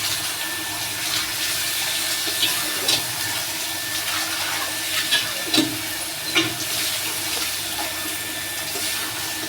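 Chicken cooking in a pan, a continuous close sizzle with scattered clinks and scraping stirs rising briefly above it, steady throughout, with no talking.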